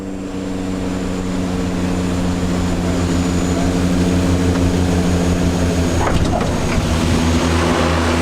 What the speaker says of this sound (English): The plane had to nosedive down as we were approaching the runway